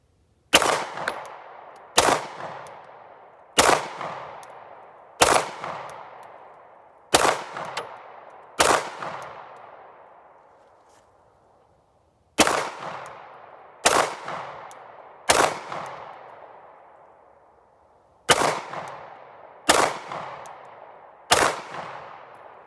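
A handgun fires about fourteen shots at a target in the woods, sharp loud cracks in irregular bursts of two or three, each trailing off in a ringing echo.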